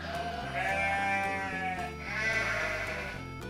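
Sheep bleat in two long, wavering cries close by, each lasting about a second, over a low background of soft music.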